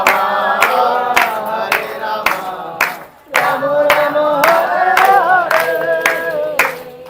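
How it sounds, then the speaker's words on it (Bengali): A Hare Krishna devotional gathering clapping along in a brisk, even beat, with loud, close, regular claps under continuous group chanting and a brief pause near the middle. "খুব সুন্দর হাততালি দিয়েছেন"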